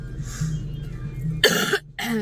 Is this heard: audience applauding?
no